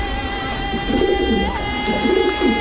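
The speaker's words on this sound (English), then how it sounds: "That's a real pigeon, y'all." Pigeon cooing close by in soft repeated low warbling phrases, about four coos over a steady background hum.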